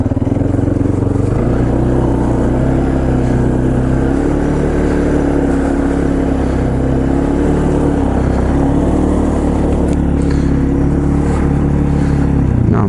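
A 2005 Polaris Predator ATV, ridden after a head gasket and valve replacement, drones steadily in second gear, its engine loud and close with wind rush, holding a fairly constant pitch with no talking.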